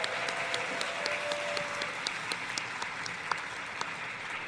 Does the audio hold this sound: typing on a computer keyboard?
no